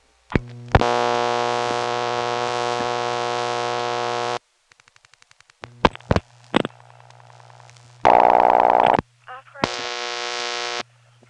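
Telephone call placed to the operator on a 1977 all-relay exchange in Pinetown, North Carolina: a long steady tone, then relay clicks and switching clatter, followed by bursts of ringback tone, heard alone without talk.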